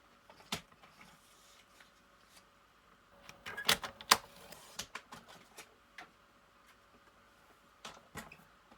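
Paper card being trimmed for a handmade zig zag card, with a few soft scattered snips and rustles, then a brief louder cluster of crisp cuts, all quiet and close with no talk.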